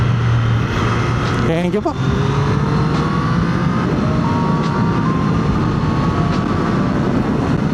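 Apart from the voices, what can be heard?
Triumph Street Triple 765 motorcycle engine revving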